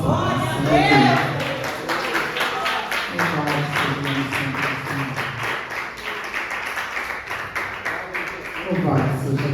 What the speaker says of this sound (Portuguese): exaltando o Senhor com as palmas